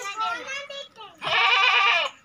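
At a goat market in Hasilpur, a goat gives two loud, close bleats, a shorter wavering one followed by a longer, stronger cry.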